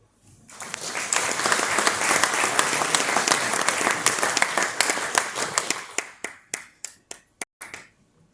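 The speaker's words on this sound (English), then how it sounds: "Please give Brenda another round of applause" Applause for Brenda Kali at a conscious-companies talk: a dense, loud round of clapping from an audience that holds steady for several seconds, then thins into a few scattered, separate claps before stopping.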